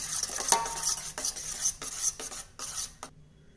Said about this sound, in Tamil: உப்பு போட்டு மிக்ஸ் பண்ணிக்கலாம்.